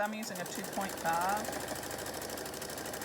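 A sewing machine runs steadily at a short stitch length, joining two sides of fabric, with a person talking over the close, continuous whir.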